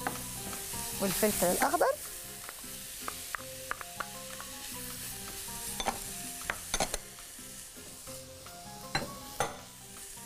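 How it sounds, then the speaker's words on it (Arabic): Colored bell peppers sautéing in a pan with onion and vegetables, a steady close sizzle under repeated scraping and clinking stirs, with a brief louder burst near the start. "وهاخد تشويحه كده من الفلفل الالوان كده، شايفين ازاي"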